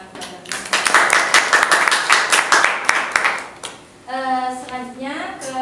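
Audience applause after a group presentation at a teaching session, a burst of clapping from many hands lasting a few seconds before a voice begins speaking.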